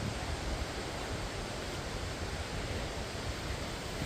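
Broad, steady rushing of the Taraabu waterfalls, a constant loud roar of falling water with no break and no voices.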